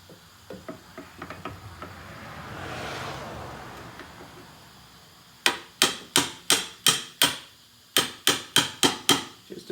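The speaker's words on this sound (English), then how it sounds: "Probably have to grab a hammer. Give it a few taps." Steel hammer striking the shock absorber of a Buick Enclave during shock replacement: light taps at first, then two loud, evenly spaced bursts of sharp metallic blows close up, with no talking.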